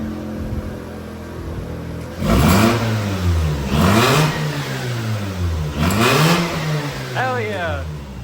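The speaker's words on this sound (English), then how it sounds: "It's got a loud intake." A Mazda RX8 rotary engine with a loud intake revs three times in quick swells that rise and fall, heard up close, with a voice speaking briefly near the end.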